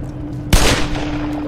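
One sharp close gunshot in Black Mesa cracks out over a steady humming background, with a brief decaying tail afterward.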